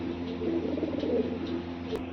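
Soft, low pigeon cooing with a steady murmur beneath it and a brief click near the end.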